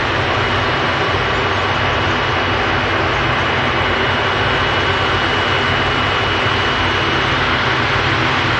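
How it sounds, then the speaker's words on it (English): KLM Boeing 737 jet departing Manchester Airport, a loud steady roar of jet engines holding at full power throughout, broad and continuous with no voices. "I hope you enjoyed that departure, the KLM 737,"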